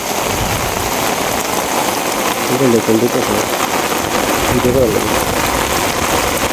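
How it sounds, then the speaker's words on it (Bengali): Heavy monsoon rain pours over a village wetland in Barisal where fish are being caught, a dense, steady hiss close all around, with faint voices briefly showing through the downpour. "প্রচুর বৃষ্টি আছে"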